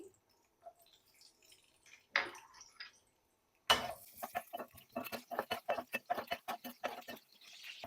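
Round-cut garlic slices frying in cooking oil until golden, a faint sizzle followed by a loud burst of crackling pops and spits, rapid and irregular, close and alone.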